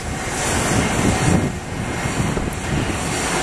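A plane's engines roar loudly with a broad rushing noise and some wind buffeting, a close, steady takeoff drone at Atlanta airport without any voices.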